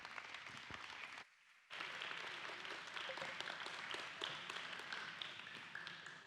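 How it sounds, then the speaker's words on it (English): Fairly quiet applause for a speaker at an indoor event, with dense scattered clapping that briefly drops out near the start and then carries on steadily to the end. "Let's give a round of applause for Leslie Wyrick."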